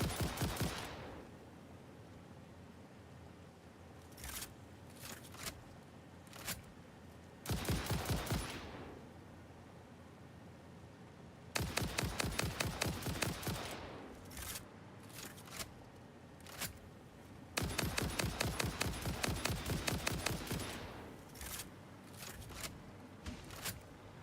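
Gunfire in Satisfactory aimed at a creature: repeated rapid automatic bursts, some long and sustained, others short single cracks, loud and close with quiet gaps between.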